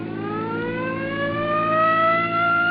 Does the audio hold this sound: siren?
yes